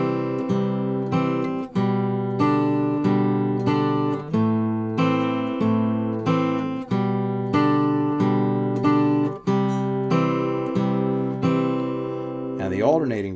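Acoustic guitar fingerpicked in a pinch pattern works through a chord sequence, bass and treble notes plucked together in a steady even rhythm with chords changing every couple of seconds, alone and close.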